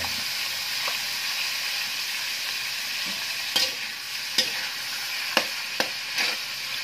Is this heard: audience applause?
no